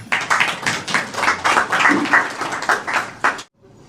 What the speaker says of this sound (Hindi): हम लोग तालियों से उनका इस्तकबाल करें